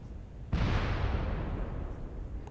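A weapon blast from a mech combat video game hits suddenly after a short quiet lead-in, then rolls on as a loud, broad rumble that fades only slightly over two seconds.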